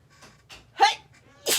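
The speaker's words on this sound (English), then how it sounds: "I'm gonna sneeze." A woman sneezes during a live card-making class, with a short intake of breath followed by a sharp, loud burst and then a second forceful explosive exhale, close to the microphone.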